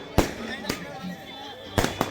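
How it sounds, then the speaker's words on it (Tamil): Festival fireworks at a church feast for the Infant Jesus in Kodaikanal burst in four sharp, loud cracks, two early and two close together near the end, over a murmur of crowd voices. "இலை முட்டும் அளவுக்கு வானவெடிகள் பயங்கரமாக இருந்துச்சு."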